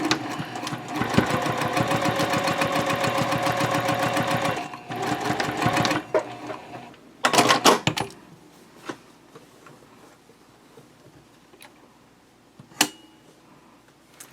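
A sewing machine top stitching the long edges of a fabric triangle pouch at stitch length 3.0, running in a fast steady rattle for about six seconds, then stopping, followed by a short burst and scattered handling clicks.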